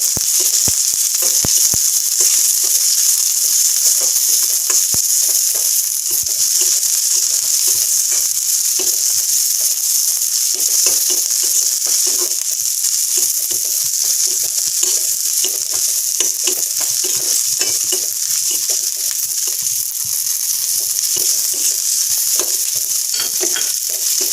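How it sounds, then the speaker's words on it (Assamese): Steady crackling sizzle of onions and green chilies frying in hot oil, with occasional stirring clinks, continuous and close, no talking. "এতিয়া মই এইখিনি অকণমান ভাজি ল'ম।"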